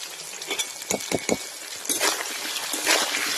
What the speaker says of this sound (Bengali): নাড়িয়ে নাড়িয়ে ভেজে নেব। আলু ভাজার মধ্যে অল্প করে লবণ দেবো।